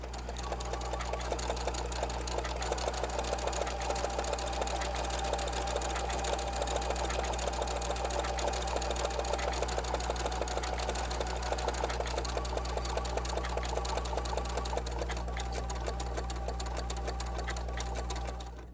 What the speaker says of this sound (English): lower my foot again, and we'll stitch this next